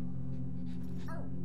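In the video game Phogs, a cartoon dog gives a short whimpering yip that rises and falls, layered over steady, loud game music.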